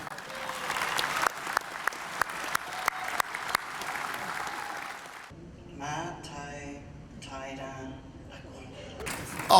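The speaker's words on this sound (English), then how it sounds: "give him a big round of applause" Guests at an award dinner applaud for about five seconds, a broad clapping wash with a few sharp individual claps, then it stops abruptly and a voice speaks over a quieter room.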